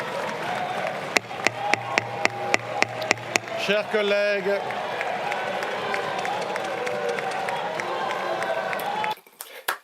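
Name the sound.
applause in the National Assembly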